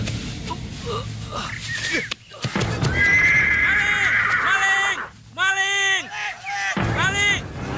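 A horse neighs and whinnies loudly and close, several drawn-out wavering calls with breathy snorts between them, amid some other outdoor noise.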